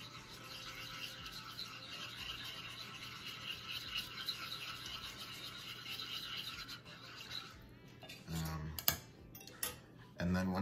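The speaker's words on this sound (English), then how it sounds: "And then we're gonna whisk that together once again." Milk being whisked into an Alfredo sauce, a quiet, steady metallic scraping and ticking that runs for a long stretch, ending in a few louder knocks and clinks, with someone talking over it.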